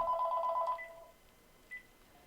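A telephone rings in a talk radio studio with a short, rapid warbling electronic burst, loud and close, that cuts off and leaves a quiet room with a faint blip afterward.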